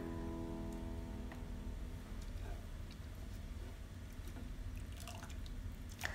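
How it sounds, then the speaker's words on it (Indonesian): Cooked spinach drains in a kitchen, giving faint, sparse drips and soft wet trickles against a quiet low hum, with a few clearer drops near the end. "Dan ini bayamnya juga sudah mateng, aku tiriskan dulu."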